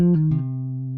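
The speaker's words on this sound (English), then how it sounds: "Now the next 3 notes is this little sort of twiddly trill," A few quick bass guitar notes flicker in a short trill, then settle into one sustained, ringing low note, played alone and up close.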